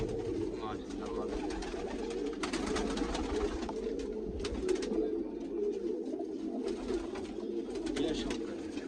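Flock of racing pigeons kept by a pigeon fancier in Hasanpur coo softly in a low, continuous rolling murmur, with flutters and scattered rustling throughout and people talking nearby.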